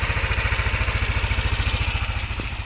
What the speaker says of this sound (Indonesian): Suara juga mesin juga nih, suara mesin saya lihat dengerin dari sini.